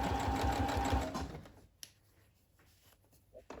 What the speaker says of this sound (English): stay nice and close to that edge to sew those 2 edges together